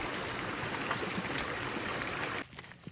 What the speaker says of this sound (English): There were a lot of pretty cascades up and down this creek bottom